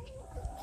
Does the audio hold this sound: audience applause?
no